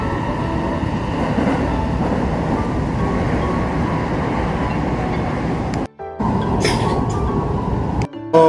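Steady low rumble and rattle of a moving train interior in Japan, continuous and loud, with brief drops in noise near the end.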